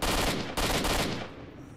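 Pistol gunfire in S.T.A.L.K.E.R. Shadow of Chernobyl, two loud close bursts in quick succession, the second fading into a short rumbling tail.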